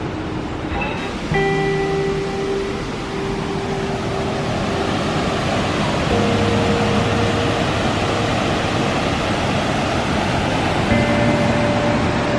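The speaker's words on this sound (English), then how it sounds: "Next to the River Clyde, and the sound of the waterfall is so tranquil." A waterfall on the River Clyde at New Lanark gives a steady, broad rushing roar that holds without a break, with a few faint sustained tones drifting over it.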